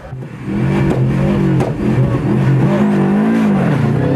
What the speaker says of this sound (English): The expat is settling into the feel of the Western Brand Chicken's Subaru Legacy in the first stage.